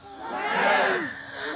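A large outdoor crowd bursts into a swelling roar of cheering, a dense mass of voices rising to a peak and then easing off, with little distinct clapping.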